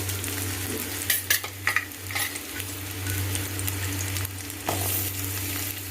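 A handful of cut onions fries in sesame oil in a kadai on a stove, a constant close sizzle broken by a few clattering stirs over a low hum.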